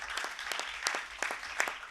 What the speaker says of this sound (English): Let's clap Kirti.